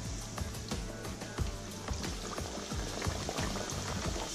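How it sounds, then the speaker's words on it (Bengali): An egg and potato snack sizzles and bubbles steadily in plenty of hot oil in a kadai. The frying is a soft, even crackle with popping specks throughout and no voices. "আমি একটা কড়াইতে বেশ কিছুটা তেল গরম করতে দিয়েছি, এখন এটা এই তেলের মধ্যে দিয়ে দিচ্ছি"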